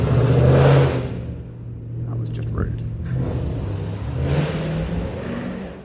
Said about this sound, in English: just gonna let that very loud car go by